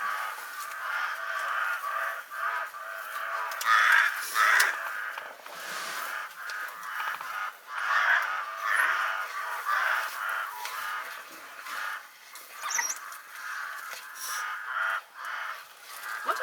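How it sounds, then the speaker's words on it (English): White crows in the Kalahari, Botswana, cawing repeatedly with harsh, raspy calls at irregular intervals over a faint outdoor background, some calls overlapping, moderately near. "White crows. White crows, aha."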